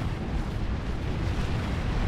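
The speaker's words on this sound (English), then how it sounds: "Barrage incoming." Continuous rumbling barrage of artillery explosions in a Warhammer fantasy battle game, a dense, steady low roar with overlapping booms and no clear gaps.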